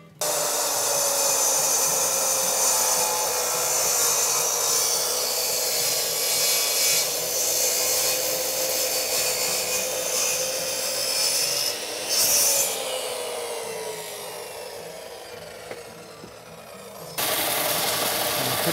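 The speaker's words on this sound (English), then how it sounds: "sand this a little bit, see what we get in wood grain and color around it" Wood being sanded while building a wooden pen box: a steady, continuous abrasive rubbing rasp that runs close and loud almost throughout, easing slightly near the end before resuming, with no talking.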